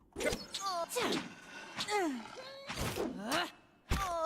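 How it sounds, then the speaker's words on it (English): Several drawn-out groans and moans from a female enemy in the fantasy RPG Pillars of Eternity: The White March, voiced in rising and falling bursts amid muffled combat thumps. "She is groaning and moaning like it is a female that got wrecked."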